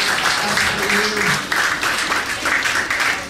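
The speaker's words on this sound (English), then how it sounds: "Let's get a big round of applause for our friend Jack." Audience applause for a volunteer named Jack at a comedy mind-reading and mentalism show, a dense steady wash of many hands clapping at moderate loudness, with a brief voice rising through it early on.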